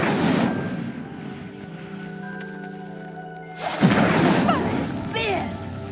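The Incendio fire spell igniting a pyre in Hogwarts Legacy; a whooshing burst of flame flares up at the start, a quieter stretch of low rumble follows, then a second roaring surge with crackling and a voice speaking under it.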